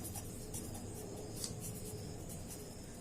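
A pen scratches on paper as a geometry solution is written out by hand, a soft, continuous scratching with light rhythmic strokes, close and fairly quiet against steady background hiss.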